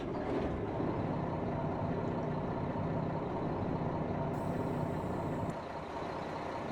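Heavy Mack R truck in American Truck Simulator rumbling steadily under braking, a dense low engine drone with a faint high tone near the end and a slight drop in level as it slows.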